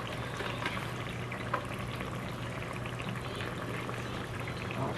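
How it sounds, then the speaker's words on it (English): Chicken broth pours steadily into a cooking pot, a continuous soft liquid rush that stays even in volume throughout. "you're supposed to add in 1 cup of chicken broth or water"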